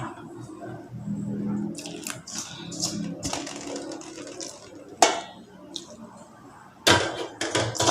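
Chapati dough of flour, salt, oil and water being mixed and kneaded by hand in a bowl, soft close squishing and slapping with sharp clinks and knocks against the vessel.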